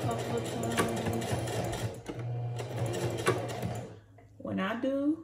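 A sewing machine stitching combs into a wig, its fast rhythmic needle chatter running steadily close up, pausing briefly, then starting again as a person talks over it.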